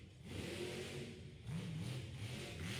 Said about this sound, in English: Because El Toro Loco. Alright. Driving it up that little ramp.